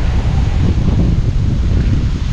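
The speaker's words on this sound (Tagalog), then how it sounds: "Grabe ang lakas ng hangin mga kautol, no?" Strong wind at a seaside vacation spot in Campanalig buffets the microphone with a loud, continuous low roar and rumble.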